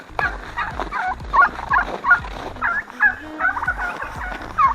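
Farm turkeys gobble in a rapid, warbling chorus, several birds calling close by and loud in overlapping bursts across the whole stretch, with a low rumbling background beneath.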